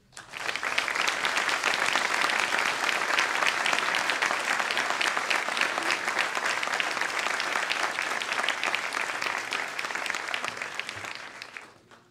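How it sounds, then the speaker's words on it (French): A graduation ceremony audience at the ENSM maritime school in 2017 applauds the ship's captain and chief engineer, a steady, full round of clapping that runs about twelve seconds before tapering off. "Vous pouvez les applaudir."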